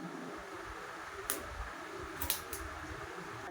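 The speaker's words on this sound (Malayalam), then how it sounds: "അപ്പൊ നമുക്ക് കട്ട് ചെയ്യാം." Scissors snip through plastic packaging around a Meesho product, a few short crisp cuts over a faint steady background hiss, close and quiet with no talking.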